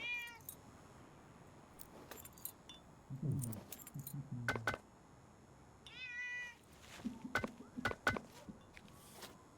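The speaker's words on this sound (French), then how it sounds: "Ouais, il y a un chat. Ah, mais ouais, c'est un vieux chat." An old cat gives a few short meows against a quiet background, broken up by keys jangling and soft handling noises.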